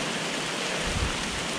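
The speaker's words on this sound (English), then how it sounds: "Absolutely torrential rain." Torrential summer rain pours down on the South West coast path near Boscastle and Tintagel, a dense, steady hiss of heavy downpour close around a sheltering walker, with a brief low rumble midway and no talking.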